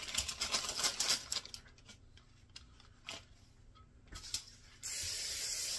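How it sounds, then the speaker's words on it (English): Short bursts of cooking spray hissing onto parchment paper with light taps and rustling between, ending in a longer continuous spray up close. "And I just like to spray it one more time."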